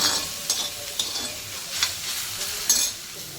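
Chopped onion frying and being stirred on a thick, heavy cast-iron tawa, a soft continuous sizzle broken by several sharp scrapes of the spatula, fairly quiet and close.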